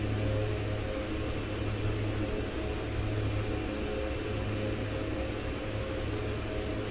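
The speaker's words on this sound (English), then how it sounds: "And it is a noisy airplane." A steady, loud engine roar of an airplane droning continuously, filling the whole stretch with broadband noise and a low hum.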